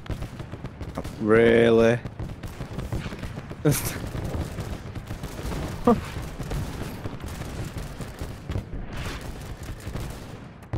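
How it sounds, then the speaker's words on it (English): Phosphorus artillery barrage in the WWI video game Over The Top WWI, online multiplayer: scattered booms and sharp gunfire cracks over a rumbling battlefield, with a short burst of speech early on. "What a phosphorus barrage!"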